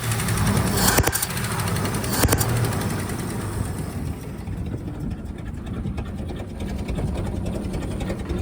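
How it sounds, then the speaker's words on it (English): An old 1969 C30 truck engine idles with a low, uneven rumble. A few sharp clicks come early, then it settles into a steady chug. "It's running, idling even."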